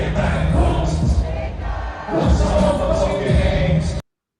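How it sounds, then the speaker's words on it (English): A large concert crowd at Yankee Stadium roars in a dense, loud, continuous wash of cheering and shouting that swells and dips slightly before cutting off abruptly. "Look at the crowd"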